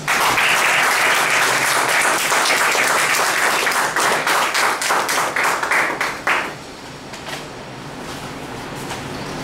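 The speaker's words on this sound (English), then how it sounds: "welcome the first speaker of the day, Appu, with a thundering applause" Loud, thundering applause greets the first speaker of the day, Appu: a full audience claps in a dense roar for about six seconds before it abruptly dies away, leaving only faint scattered claps and room noise.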